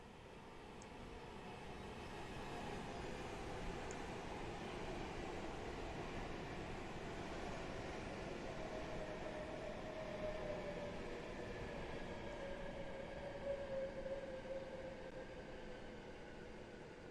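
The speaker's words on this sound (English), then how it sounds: "It's Manchester Piccadilly to London Euston service passing through." A Manchester Piccadilly to London Euston express, a Pendolino on the West Coast Main Line, rushes through Milton Keynes Central station with a steady rumbling roar and a rising hum across the whole span, no talk.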